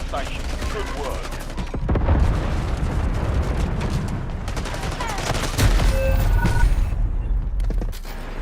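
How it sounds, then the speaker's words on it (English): Napalm strike explosions in Black Ops 6 Warzone, set in Verdansk: loud, heavy blasts roll and rumble continuously, with fresh surges of booming fire around a steady crackling barrage. "Incoming napalm."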